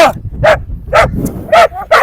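A Cane Corso gives four or five loud, close barks spaced about half a second apart, with short gaps of quiet between them.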